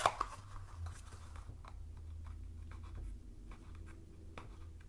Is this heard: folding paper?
yes